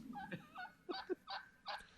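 Turkeys gobble in a series of short, rattling bursts, four or five quick calls spaced about evenly, fairly faint and heard alone.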